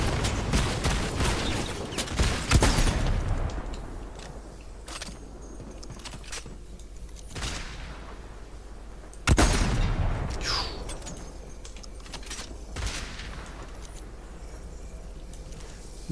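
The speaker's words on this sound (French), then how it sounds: "Il y a quelqu'un qui tire," Gunfire in the video game Fortnite, a few sharp shots and bursts standing out over quiet game ambience, with loud cracks near the start and again midway, then scattered fainter pops.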